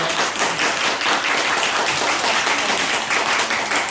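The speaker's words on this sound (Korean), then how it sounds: "큰 박수와 함성으로 오늘 감사함을 먼저 표시하고 시작을 할게요." An audience of working parents at a Saturday school gathering claps and cheers loudly, a dense, steady wash of applause that holds evenly for the whole stretch.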